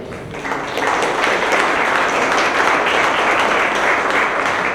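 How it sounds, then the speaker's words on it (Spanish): An audience at an official transparency agreement signing breaks into strong applause, starting a little softer and then holding a full, even roar of clapping to the end. "Brindémosles un fuerte aplauso"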